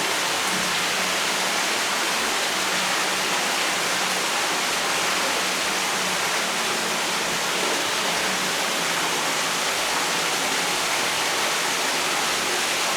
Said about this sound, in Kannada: ಗುಹೆ ಒಳಗಡೆಯಿಂದ ನೀರು ಬರ್ತಾ ಇದೆ.